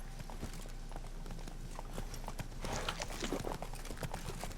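Hooves clop in a steady, brisk rhythm from a horse in The Witcher 3: Blood and Wine, fairly close, over a constant low game background hum, with the pace quickening slightly toward the end.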